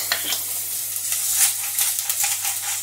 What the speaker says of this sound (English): I'm just going to throw my onions, give it a stir, sprinkle a bit of salt,